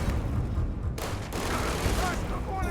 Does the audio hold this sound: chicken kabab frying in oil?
no